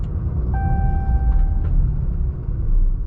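A Ram 2500 AEV Prospector XL pickup reverses off-road, its engine a deep steady rumble with a brief faint tonal beep partway through.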